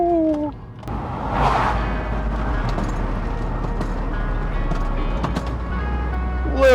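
A 1998 Subaru Forester fitted with Raceland coilovers and new wheels drives on pavement, giving a steady low road and engine rumble heard from inside the cabin. A voice can be heard briefly at the start and again at the end.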